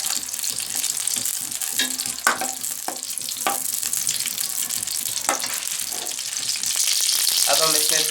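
Whole dried red chillies crackling in hot ghee for a dhaba-style dal tadka, a continuous close sizzle dotted with sharp pops and spatula scrapes, growing slightly louder toward the end.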